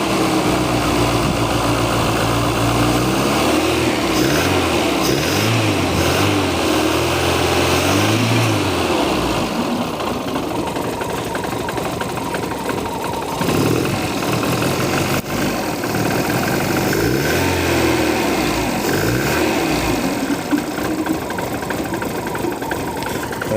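A Fiat Uno's engine idles steadily while coolant circulates through the radiator system, a continuous mechanical hum with no talk over it.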